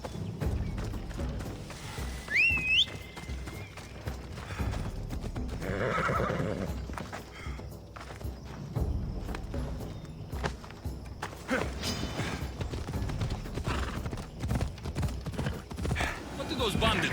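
Horse hooves clip-clop at a steady walk in Assassin's Creed Odyssey, with a sharp whinny early on, while voices talk over the scene.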